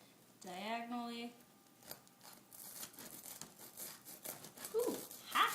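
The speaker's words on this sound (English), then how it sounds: "I'm going to attempt to cut this diagonally" A knife saws diagonally through a hot grilled cheese sandwich, giving a series of crisp scraping, crunching strokes on the toasted bread after a brief voiced sound, close and moderately quiet.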